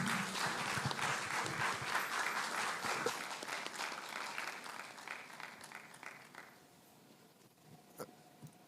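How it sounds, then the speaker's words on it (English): An audience at a talk event claps in a full round of applause that stays strong for several seconds, then thins out and fades to a few scattered claps as the room quiets. "Let's give them a round of applause."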